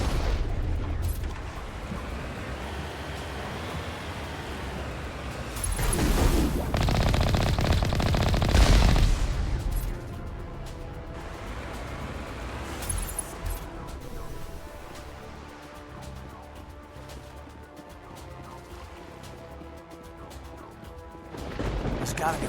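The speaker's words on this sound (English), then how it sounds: "We must find a way to disable their artillery." Enemy artillery in Mass Effect 1 fires in heavy, booming bursts, with one long loud barrage and a shorter blast later, set against a steady low rumble and game ambience.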